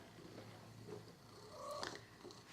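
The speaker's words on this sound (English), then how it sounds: "Who needs a parrot when you have a shoulder cat?" A cat perched on a person's shoulder purrs softly and close, a low steady rumble under room sound, with a brief higher chirp-like sound near the middle.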